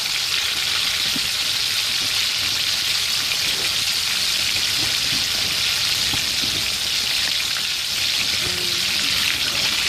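Perch fish deep frying in hot oil while out ice fishing, a loud, close, continuous crackling sizzle that fills the whole stretch without any talk.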